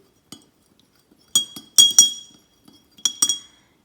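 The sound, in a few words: stirring salt water solution in a glass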